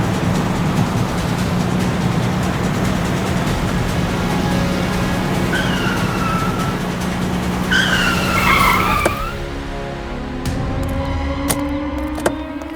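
Racing cars roar past each other at close range, with engines droning loudly and steadily and tires skidding and squealing, ending in a sharper screech.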